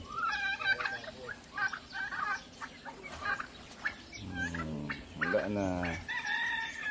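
Turkeys and other fowl on a farm gobble and cluck in overlapping bursts, fairly close, with a voice speaking briefly among them.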